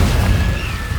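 A Confringo blasting spell explodes during a dragon fight in Hogwarts Legacy, a loud, close, booming burst that rumbles through the short moment.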